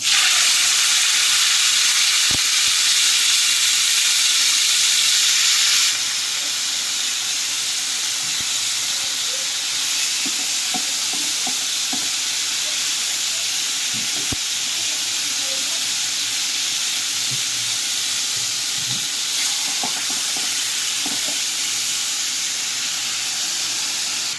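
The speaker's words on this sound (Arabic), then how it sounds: "أهم حاجة ننزل منها التتبيلة ونديها صدمة جامدة على النار" Marinated chicken sears in a pan over high heat, giving a loud, continuous sizzling hiss that holds steady from start to finish, with scattered faint clicks beneath.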